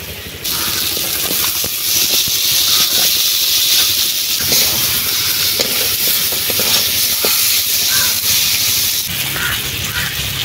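Peeled crabs go into hot oil with spices in a pan, raising a loud, continuous sizzle and hiss that holds steady throughout, with faint stirring noises beneath.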